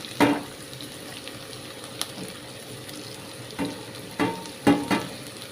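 Small onions frying in a pan with a steady soft sizzle, broken by several scraping stirs that come in short bursts, close by with no talking.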